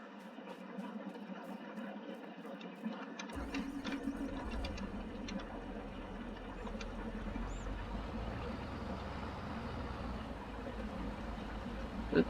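Agitator motor starting up in a farm mixing tank, a steady mechanical whir and churning drone that kicks in abruptly and then runs continuously at moderate level, with a few faint clicks and knocks.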